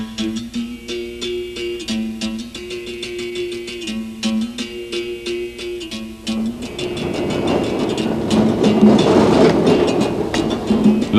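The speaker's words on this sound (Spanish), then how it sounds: "Los tranvías, con su traqueteo y su colorido, facilitan una especialísima manera de ver Lisboa" A Lisbon tram rattles along its route, a steady clattering train-like rumble with wheel clicks over rails, growing louder and noisier toward the end as it passes close by.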